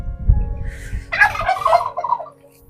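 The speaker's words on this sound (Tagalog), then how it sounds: "May pabo." A domestic turkey gobbles close by in a rural backyard, one loud rapid burst of rattling calls after a few low rustling thumps, then fading out.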